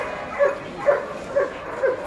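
A large chocolate-colored XL pit bull at a Friday dog market in Egypt gives four evenly spaced, moderate barks or yips over a steady crowd hum.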